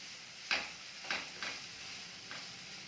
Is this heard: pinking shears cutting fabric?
no